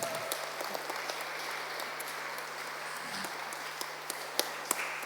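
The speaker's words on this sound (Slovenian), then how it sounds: "lahko jih pospremimo z enim aplavzom" An audience at a public event gives a round of applause, a dense, even wash of many hands clapping with a few sharper claps standing out near the end.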